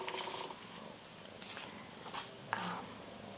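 A male cat purrs steadily and softly up close in a quiet indoor room, a low continuous rumble with no talking over it.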